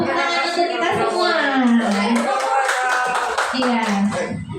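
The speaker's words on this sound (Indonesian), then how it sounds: "cukup Bapak Ibu, tepuk tangan untuk kita semua." Audience applause at a school positive-culture dissemination session, a crackle of clapping running under loud, continuous talking.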